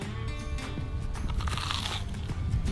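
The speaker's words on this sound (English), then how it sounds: "Can you hear the crunch?" A crisp, close crunch of biting into a toasted grilled cheese sandwich with bacon, fried in bacon fat and butter, followed by brief chewing.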